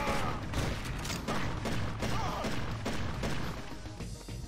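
Gunfire in the PSP game Dead to Rights, played on the PPSSPP emulator: a dense, continuous volley of shots and crashing impacts at steady loudness throughout, with game noise layered underneath.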